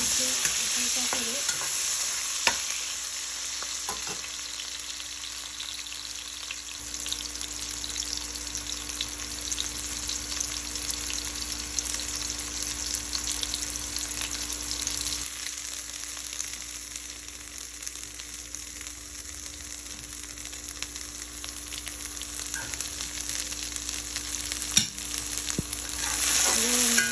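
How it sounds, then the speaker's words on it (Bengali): Small potatoes lightly frying in oil in a pan, a continuous, close frying sizzle with stirring and an occasional sharp clink of a utensil, no talk over it. "এরপর আমি আলু ভেজে নিব আবার হালকা করে"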